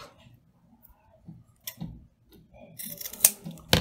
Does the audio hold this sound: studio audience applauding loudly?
no